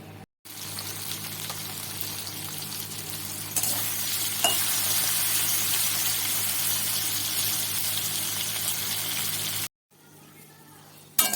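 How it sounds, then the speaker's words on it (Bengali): Okra fries in hot white oil in a wok, giving a loud, continuous close-up sizzle with faint stirring that swells midway, then briefly cuts out before resuming near the end. "তেল গরম হয়ে গেলে আমি এই ঢ্যাঁড়সগুলোকে ভেজে নেব।"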